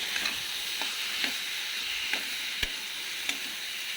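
Cut vegetables frying in a pan hiss with a steady, loud sizzle, punctuated by light scraping taps of a spoon as they are stirred at irregular intervals.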